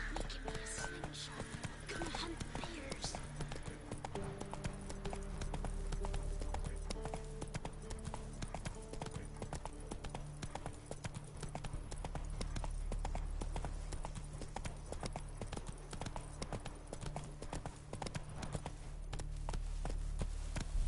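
A horse gallops in a PS4 video game, rapid rhythmic clip-clop hoofbeats running steadily throughout under game sound, with a neigh at one point and a person talking over it.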